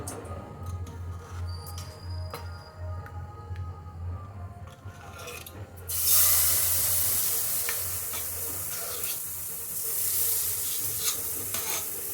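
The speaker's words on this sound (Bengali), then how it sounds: "কড়াইতে একটু সাদা তেল" White oil heats in a nonstick wok, a quiet background with light taps and ticks that turns into a louder, steady sizzle about halfway through, with no voices.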